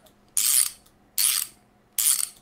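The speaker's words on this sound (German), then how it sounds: "ich muss ja noch die Reifen festziehen wieder" A hand ratchet tightens car wheel nuts in three quick, loud bursts of rapid clicking, evenly spaced with short pauses between, close by and with no talk over them.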